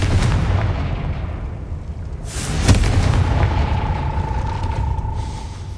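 Confringo spell going off in Hogwarts Legacy: a deep rumbling boom with a sharp crack near the middle, then a lingering low roar and a faint tonal hum fading out.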